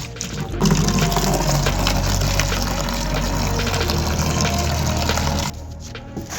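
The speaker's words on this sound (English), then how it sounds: "I'm using water and it is winter and it's actually cold" Liquid gushing and splashing steadily as degreaser and water are poured while cleaning the underside of an old rusty Toyota outdoors in winter, loud and continuous for about five seconds before cutting off to quieter noise.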